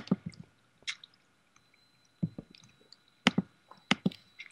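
Water splashing in the Minecraft video game, a series of short, soft wet squelches and drips in irregular bursts, fairly faint and close, with quiet gaps between them.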